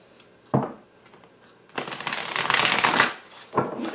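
Oversized tarot cards being shuffled up close: a short riffle, a pause, then a longer, louder run of flapping and rustling, ending with a final soft thump.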